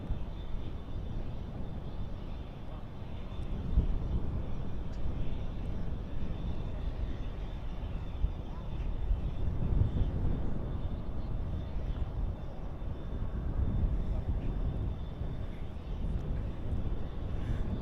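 Qatar Airways airliner at Dallas/Fort Worth airport at night, a steady low jet engine rumble holding at moderate distance throughout, broad and even with no talk.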